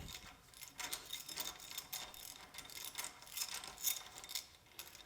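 Ratchet wrench loosening bolts on a Farmall Super H tractor, quick bursts of dry clicking in an uneven rhythm, close and fairly quiet.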